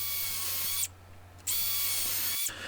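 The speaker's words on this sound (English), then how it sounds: "I could then drill out 2 holes in between the gaps that I marked" A power drill whirs in two bursts into scrap wood, separated by a short pause, loud and close, with no talking.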